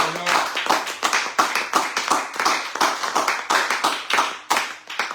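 A church congregation applauds during a Sunday service, steady dense clapping from many hands filling the room throughout, fairly loud with no voices over it.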